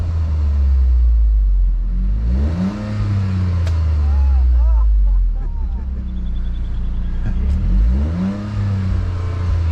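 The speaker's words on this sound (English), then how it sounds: "it's pretty sweet sounding when you get to that exhaust" Exhaust of a Toyota Corolla GR hot hatch rumbles deep and close, rising in two revving swells as the car accelerates, with a voice talking faintly over the engine.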